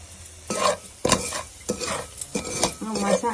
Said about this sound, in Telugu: ఈ మసాలా అంతా బాగా ఫ్రై అవ్వాలి.